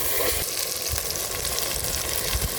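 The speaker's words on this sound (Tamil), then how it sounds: "நான் பச்சை மிளகா போடுறேண்ணா" Green chillies sizzle steadily in a litre of hot frying oil while a fish samosa is being prepared, a dense, continuous crackle close by with no talking.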